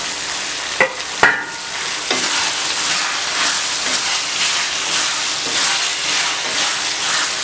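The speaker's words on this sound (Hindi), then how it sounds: "चंद सेकंड के लिए दोबारा से इसको फ्राई करना है ताकि आलू भी फ्राई हो जाए।" Boiled potatoes fry with keema and karela in a pan, giving a loud, steady sizzle, with a couple of sharp utensil knocks near the start and stirring scrapes under the hiss.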